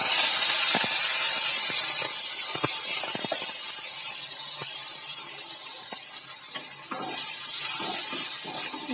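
Chopped onion, tomato, green chili and a few curry leaves are sautéed together in a pan for a brinjal fry. A steady hiss of frying runs under scattered clicks and scrapes from stirring, close and fairly loud, with no talking.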